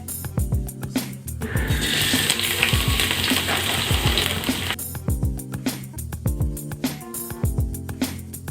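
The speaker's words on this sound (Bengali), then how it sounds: "এবার একে একে ভেজিটেবলস গুলোকে ফ্রাই করে নেব।" Vegetables for masala noodles fry in a pan with a loud, steady sizzle that swells into a dense hiss, while spatula scrapes and clanks against the pan break through repeatedly.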